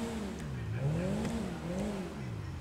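Canis Castigator exhaust in GTA Online revving in steady swells, the engine note rising and falling in repeated waves, close and continuous with no one speaking.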